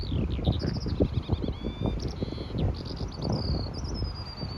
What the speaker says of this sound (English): one of the great sounds of up on the cliffs there with the fields is the skylark.